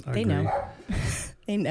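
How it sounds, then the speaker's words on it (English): A pet dog barks a few times close by in a home, the sharp yelps mixed in with people talking over it. "Oh, that's my dog."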